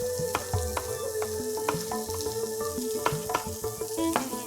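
Onion and garlic fry in a pan for Thai red curry, a steady close sizzle broken by light clinks and scrapes of stirring.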